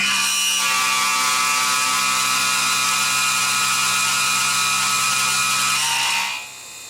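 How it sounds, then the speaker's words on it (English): A Tormach PCNC1100 mill cuts aluminum with a long 1/2 inch two-flute carbide end mill at about an inch of engagement, giving a loud, steady high-pitched whine with tonal chatter for about six seconds before it cuts off. "For 1/2 inch, 2 flute, carbide end mill, in aluminum."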